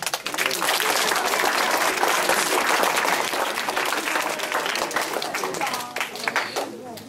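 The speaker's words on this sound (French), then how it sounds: "Je pense qu'on peut les applaudir très fort" Loud, dense applause from a crowd at a Corsican championship event honors the volunteers who made sandwiches, continuing strongly for several seconds before tapering slightly toward the end.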